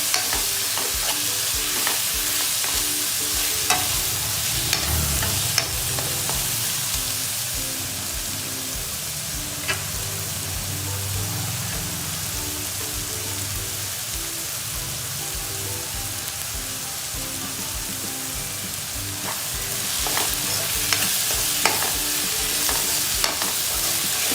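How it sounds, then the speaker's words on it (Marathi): Chopped tomatoes frying over cooked onion in a pan for colambi (prawn) masala, a steady close sizzle with repeated scraping stirs throughout, no talking. "आपण चिरलेला टमाटर टाकणार आहोत आणि त्यांना थोडं शिजवून घेणार आहोत"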